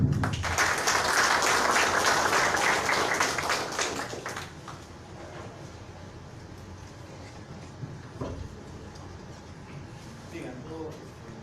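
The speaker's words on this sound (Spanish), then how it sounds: "Demos un fuerte aplauso" Seminar audience applauding a speaker's lecture at a criminal law and procedure seminar: a burst of dense clapping for about four seconds that thins and fades, followed by quieter room noise with some faint handling knocks.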